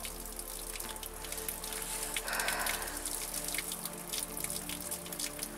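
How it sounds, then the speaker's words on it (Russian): Water running steadily out of an open tap, a quiet continuous splashing trickle with a brief louder surge midway, heard alone without voices. "Жалко так, что такая вода утекает."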